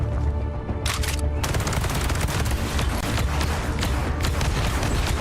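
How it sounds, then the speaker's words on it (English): An automated turret in a video game fires nonstop, a dense, loud barrage of rapid gunfire and booming impacts that fills the whole stretch with no pause. "Oh, it's a turret."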